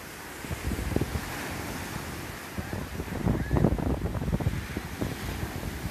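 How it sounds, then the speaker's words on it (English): High ocean waves at Pensacola Beach, Florida, crash and wash ashore in repeated surges under steady wind buffeting the microphone, with no talking. "The waves are very high."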